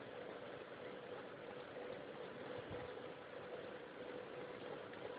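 A sewing machine stitching a slit onto fabric for a kurta neck design, giving a steady, muffled motor whir that holds even throughout at low volume.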